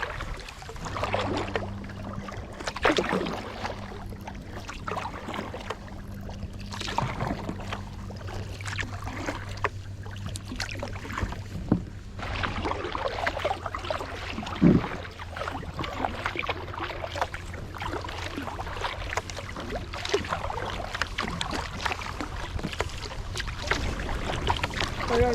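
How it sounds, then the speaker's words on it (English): A single sea kayaker paddles around Salt Spring Island with soft rhythmic splashes and drips close by. A low steady hum, likely from a distant vessel, and faint wind sit underneath throughout. "All right, time to paddle."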